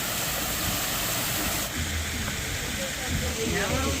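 Water pours steadily from stone spouts in front of a temple at Dhorpatan in Nepal, a continuous close hiss that holds level throughout, with a voice speaking briefly beneath it.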